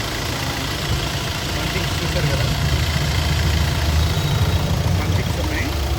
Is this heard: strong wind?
no